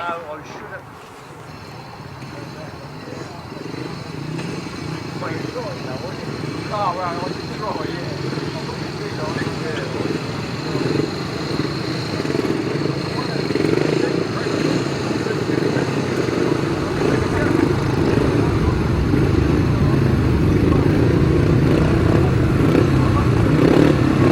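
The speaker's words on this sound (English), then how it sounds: "Coming into line then for another heat on the 500, Kennett should be the one to watch again" 500cc sidecar racing outfits running a heat at the 2017 Sidecar Super Series final: a continuous engine drone that swells steadily louder as they approach, with wind noise and a voice over it.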